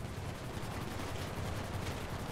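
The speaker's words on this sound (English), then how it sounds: "They all suck at shooting." Non-player characters shooting in GTA 5: a steady, low-level crackle of scattered gunshots runs throughout, muffled and fairly faint, like gunfire from some distance away, with no voices.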